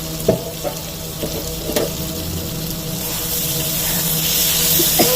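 Potato and spice masala for a Hyderabadi egg salan sautéing in a pan, a continuous sizzle and hiss with a few spoon knocks and scrapes early on, growing slightly louder.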